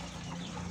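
Chickens in a poultry farm pen, a brief wash of clucking and fowl chatter with a low steady hum underneath, heard alone at moderate distance.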